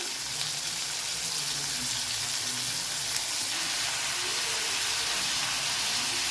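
Sliced onions with a pinch of salt fry in a pan for tomato chutney, giving a steady, even sizzling hiss with no pauses and no talking.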